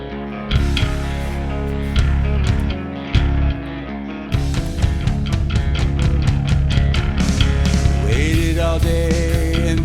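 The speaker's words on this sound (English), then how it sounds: "This is a lot of reverb." Clean electric guitar drenched in heavy reverb, played in Logic Pro: plucked chords and single notes ring out loudly with long, washy tails that blur into each other.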